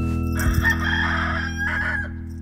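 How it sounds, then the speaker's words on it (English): A cockerel crows at sunrise, one loud, close cock-a-doodle-doo carried over a steady low background hum. "There's a cockerel going cock-a-doodle-oo."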